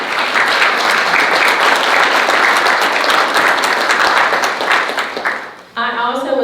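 A breakfast audience at a county chamber legislative delegation event applauds the chamber's board of directors: steady, dense clapping from a roomful of people, loud and sustained, then tapering off before a voice begins speaking.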